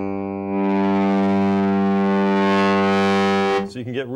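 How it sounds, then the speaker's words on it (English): A bass guitar note played through a Xotic BB Preamp pushed to heavy, scorching distortion, one loud sustained buzzing tone lasting a few seconds before it cuts off into a brief rattle. "So you can get really scorching distortion,"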